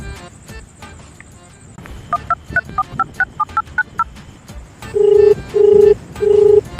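Telephone keypad tones as a number is dialed: a quick run of about ten short, evenly spaced beeps, followed by three longer, louder ringback tones, fairly close and with no talk over them.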